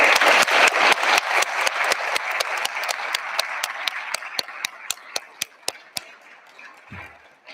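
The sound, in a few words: audience applause for the two guardians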